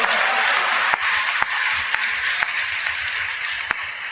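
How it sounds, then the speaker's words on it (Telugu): A church congregation claps during a sermon, a broad, even wash of applause with a few sharper knocks at intervals; no voices over it. "చప్పట్లు కూడా దేవుని మహిమపరచు"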